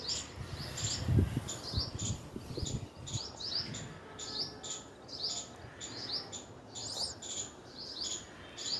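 A hoopoe sits in the shade, and bright, repeated high chirps come in short bursts throughout, steady and moderately close over a soft outdoor background.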